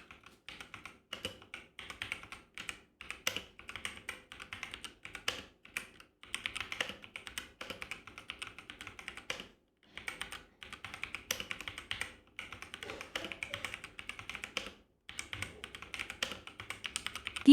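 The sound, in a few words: typing on Zifriend ZA 616 mechanical keyboard with red YH switches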